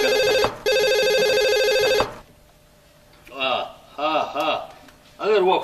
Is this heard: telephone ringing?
yes